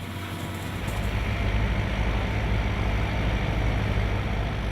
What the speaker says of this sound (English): What you're looking at coming towards you is the harvester. It's pulled with a tractor